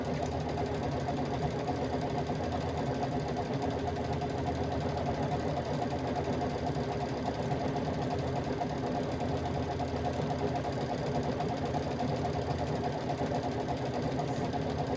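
A sewing machine stitches continuously with a fast mechanical whir and clatter, steady and close, with no voices.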